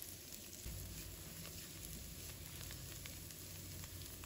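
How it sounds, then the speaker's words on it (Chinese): Garlic, mushrooms and shrimp stir-frying in a pan give a steady, soft sizzle with faint scraping and crackle, a close, low-level hiss that continues without speech. "准备香菇、虾放入锅中，继续翻炒，把它们炒出香味"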